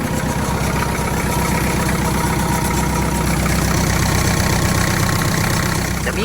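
A Kubota tractor engine, an M5000 or L5018, runs close by with a loud, steady, rhythmic chugging that holds an even pace throughout, without clear revving peaks.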